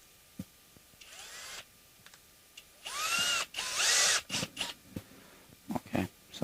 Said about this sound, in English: One thing that I do want to do is use a countersink.